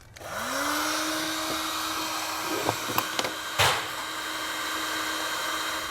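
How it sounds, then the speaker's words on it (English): A heat gun sealing the ends of a wiring butt connector during a trailer harness install whirs up and holds a steady, close blowing drone, with a few brief clicks and knocks partway through. "I'll come back with my heat gun and seal up the ends on our butt connector"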